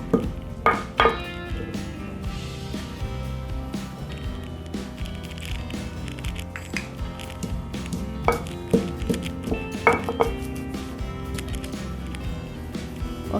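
Peanuts and sesame seeds pounded in a stone mortar for a tomato mint chutney, heard as uneven, repeated stone-on-stone knocks and grinding scrapes, close and steady, with sharper thuds now and then.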